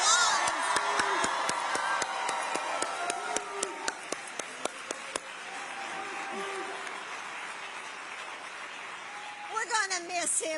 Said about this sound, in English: can we give Jason Kelsey a round of applause?